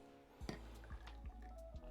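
Hot water trickles into a coffee mug for an Americano with milk, with a soft liquid pour punctuated by a few low, regular glugs and drips over a steady hum.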